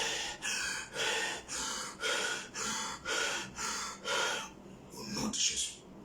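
Deep, rhythmic breathing during a guided meditation, about eight evenly spaced breathy strokes, close and moderately loud, ending in a sharper gasp.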